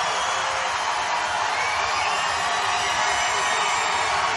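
A large rally crowd roars and cheers in a continuous, loud wash of voices with no letup, filling the whole stretch evenly.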